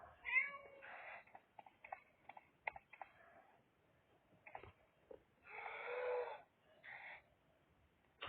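Several short meows and mews from an injured cat in a video game, with clicks and small noises in between, fairly quiet with pauses between calls.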